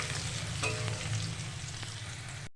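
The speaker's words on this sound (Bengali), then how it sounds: "পেঁয়াজটাকে একটু লাল লাল করে ভেজে নেব।" Chopped onion and cumin seeds frying in hot oil, a steady hissing sizzle close by with a faint low hum beneath and a few soft stirring touches.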